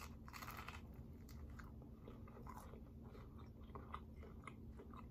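Close, quiet crunchy biting and chewing of toast during a mukbang, with repeated crisp crackles and soft mastication over a low background hum, no talk.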